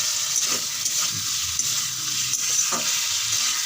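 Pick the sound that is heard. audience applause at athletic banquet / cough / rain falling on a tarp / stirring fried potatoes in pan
stirring fried potatoes in pan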